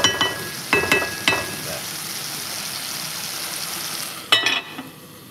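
Onion sweating in a hot pan for homemade chicken soup, a steady close sizzle broken by a few sharp clacks of stirring utensils at the start and again near the end.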